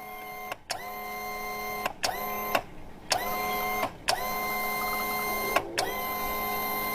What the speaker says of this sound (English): we're going to go ahead and hit the trim button to send these things out